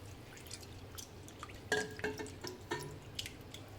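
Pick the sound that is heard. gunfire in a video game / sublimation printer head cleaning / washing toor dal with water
washing toor dal with water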